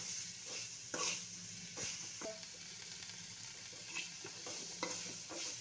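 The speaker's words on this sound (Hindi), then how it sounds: "ऐसे चलाएंगे, चम्मच चलाते हुए" A spoon stirs a bitter gourd dish sizzling in a pan, with scraping strokes recurring about once a second over a steady frying hiss at moderate level, no voices.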